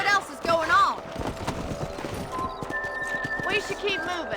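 Horses ridden in the Western game Red Dead Redemption, hooves clip-clopping steadily at close range with a whinny, while game characters talk over the hoofbeats and a tonal music line runs underneath.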